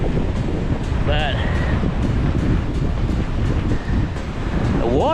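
Wind at the Pensacola fishing pier beside the sea buffets the microphone in a steady, loud rush, with someone speaking briefly over the noise.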